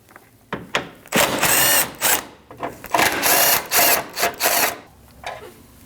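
Close ratcheting of a hand tool loosening 10mm headlight bolts on a 2012-2016 Honda CR-V 2.4L, coming as several rapid clicking bursts separated by short pauses.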